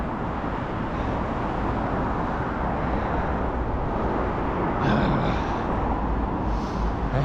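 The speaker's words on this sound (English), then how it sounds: "I hate car noises" Road traffic rumbles as a continuous, loud, even roar, heard from beside the road during a slow recovery run, with no break in the noise.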